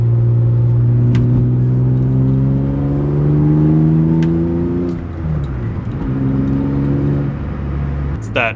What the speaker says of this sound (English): That early morning drive with the E36 M3 that I just cherish it.